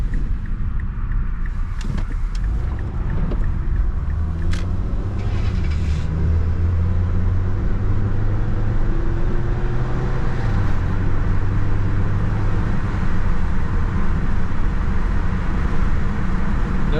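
A 2005 Mazda 3 with a damaged transmission pan cruising at speed, heavy steady road rumble and engine drone inside the cabin, with a rising engine tone partway through and no talking.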